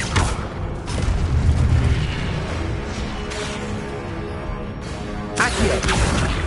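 An Incendio fire spell blasting in a Harry Potter video game: a loud, roaring burst of flame with heavy rumbling that sustains, then fresh whooshing surges break out a few seconds apart.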